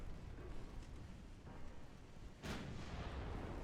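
Naval gunfire in Ultimate Admiral Dreadnoughts, with a high explosive shell striking an enemy warship: a steady low rumble of battle, then a sudden loud broadband blast about two-thirds through that rolls on as heavy roaring.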